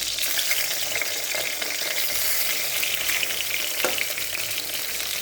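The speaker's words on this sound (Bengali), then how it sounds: "কড়াইতে তেল গরম হয়ে গেছে, তো সেখানে আমি এক এক করে বেগুনগুলো সব ভেজে নেব।" Slices of eggplant fry in hot oil in a wok, giving a continuous close sizzle and crackle with light stirring clatter, no voices over it.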